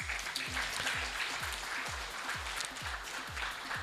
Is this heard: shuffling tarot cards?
no